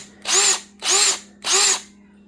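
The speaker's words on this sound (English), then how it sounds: "My countersink bit I use with a cordless drill and I removed the burrs from the holes." A cordless drill fitted with a 90-degree countersink bit deburring drilled holes while building a coil winder: three short, even whirring bursts, close and loud, with brief pauses between them.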